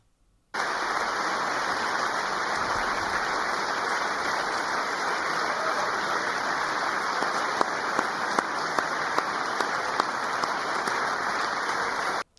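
Sustained applause fills the chamber of Congress during a speech by Trump, a dense, even wash of clapping that starts abruptly and holds steady for about twelve seconds, with a few louder individual claps near the end.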